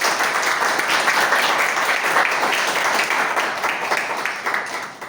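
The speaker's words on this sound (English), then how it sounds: "I urge everyone to give a great round of applause for my tag team, for my evaluators and speakers, all the role players" An audience gives loud, sustained applause to the role players at a club meeting. The thick clapping holds steady for several seconds and then tapers off at the end.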